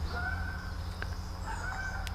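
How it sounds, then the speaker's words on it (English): Geese fly over toward a pond behind an outdoor speaker, their honking calls rising briefly above a steady, continuous background. "sounds like a bunch of geese getting ready to land on the pond behind me"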